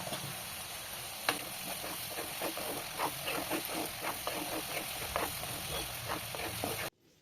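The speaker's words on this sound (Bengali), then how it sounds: "এবার হাফ চামচ পরিমাণে নুন দিয়ে আর হাফ চামচ পরিমাণে হলুদ গুঁড়ো দিয়ে আলুটাকে খুব ভালো করে ভেজে নিই" Potato pieces fry in hot oil with salt and turmeric powder for a prawn do-pyaza, giving a steady close sizzle with scattered crackles and light stirring scrapes, then cutting off abruptly at the end.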